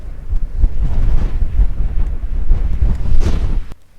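Cold wind blows steadily outdoors in open landscape, buffeting the microphone with a deep, rumbling roar that swells and fades over several seconds before dropping away at the end.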